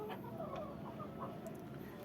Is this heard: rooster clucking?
yes